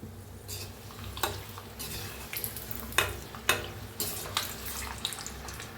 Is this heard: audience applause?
no